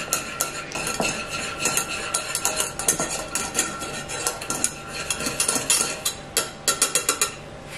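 A spoon stirring milk in a pot on a stove, with quick, repeated scraping clinks of metal against the pot, close and busy throughout, without speech.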